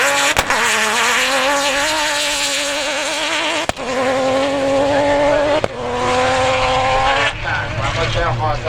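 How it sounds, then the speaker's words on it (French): A rally car with a 3-litre engine passes during a rally special stage at Maubeuge, its engine note rising and wavering through gear changes, loud and near, with a brief gap between shifts. "Un moteur donc de 3 litres qui passe."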